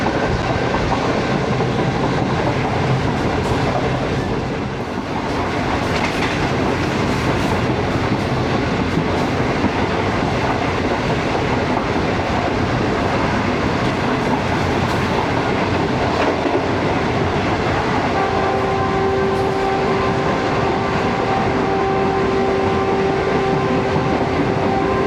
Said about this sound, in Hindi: इस सफ़र में दरियाए रावी 2 दफ़ा क्रॉस करती है ट्रेन